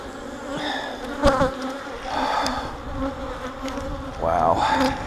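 Honeybees buzz around an open beehive during an inspection, a dense close swarm hum with individual bees droning past the microphone.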